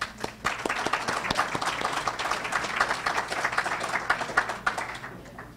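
Applause from an audience at a TCAT Morristown ceremony, a few sharp early claps swelling into a dense, lively round of clapping that holds for several seconds, then thins out at the end.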